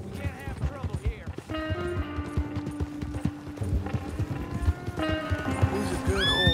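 Horse hooves clip-clop at a gallop in the Red Dead Redemption 2 epilogue, a steady rhythmic drumming carried under game music and bursts of character dialogue.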